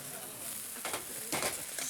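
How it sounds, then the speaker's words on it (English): A partially cooked oyster sizzles in a hot pan on a Chinese cooking show, giving a steady close hiss broken by a couple of louder crackling bursts. "Sizzling."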